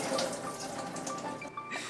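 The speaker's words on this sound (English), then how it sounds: "So I'm just gonna drain this water off it and then pour the cashews in here." Soaking water is drained off a quarter cup of cashews in a kitchen, a soft continuous pouring and trickling of liquid close by, ending with a small splash or clink.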